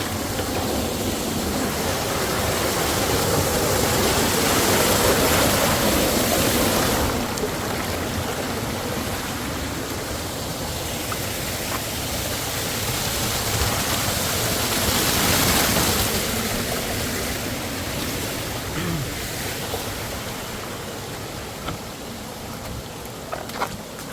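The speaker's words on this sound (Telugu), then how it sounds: "Waterfalls." A waterfall in Chikkamagaluru roars as a steady broadband rush of water that swells and eases slightly across the stretch, with no voices over it.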